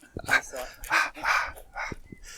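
A nearby dog gives a few quick barks, loud and close, mixed in with a person talking.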